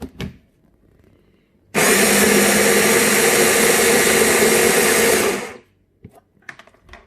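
A blender whirs loudly for about four seconds, blitzing avocado and other guacamole ingredients, with a sharp start and a tapering stop between quiet kitchen moments.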